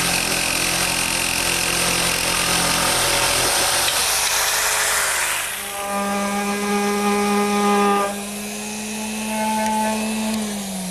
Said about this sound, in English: I'm going to use my handheld jigsaw to make both the straight and the curved cuts.